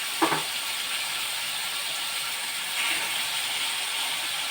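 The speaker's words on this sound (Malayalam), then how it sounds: "ചെറിയ ചട്ടി എടുത്തത് വറക്കാം." Fish fries in a small pan at home, giving a steady close sizzling hiss with a brief clatter at the start and no talking.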